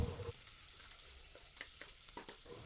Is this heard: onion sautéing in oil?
yes